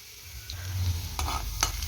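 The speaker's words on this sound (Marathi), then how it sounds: "लसूण चांगला गुलाबी रंग होईपर्यंत तळून घ्यायचा म्हणजे छान वास येईपर्यंत तसून परतून घ्यायचा" Garlic frying in oil in a home kitchen pan, cooked until pink before amaranth greens go in, gives a soft steady sizzle with a few sharper stirring scrapes near the end.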